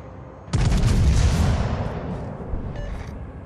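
A single heavy naval gun salvo from a World of Warships battleship, a sudden loud boom that rumbles and slowly fades into a long roaring tail.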